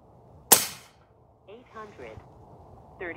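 A single sharp, loud crack from an Airforce Talon SS regulated airgun fitted with a homemade plenum fires close by, then a few quiet voiced murmurs follow.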